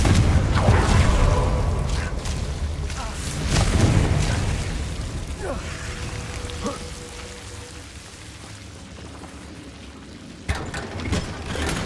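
Confringo fire spell explosions in Hogwarts Legacy, a few loud booming blasts over a constant crackling, rain-like background. The blasts come early and fade, with smaller bursts later.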